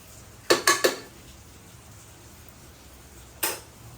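Rice being stirred while heating in ghee in a pan, a quick burst of three metallic scrapes and knocks, then quiet before one more clink near the end.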